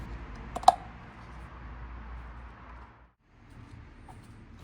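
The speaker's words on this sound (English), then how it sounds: "Now clip the new filter into the cap. It will click once it's in place." A single sharp plastic click sounds as a new oil filter snaps into the filter cap of a BMW X5 G05 30d. The click is close and clear against a low, quiet background hum.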